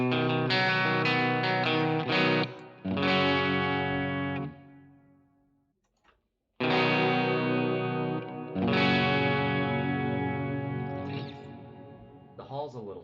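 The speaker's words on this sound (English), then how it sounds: "The hall's a little too intense." Distorted electric guitar chords ring out through a big, washy hall reverb effect on an HX Stomp, with a short gap midway before strumming resumes and tails bloom.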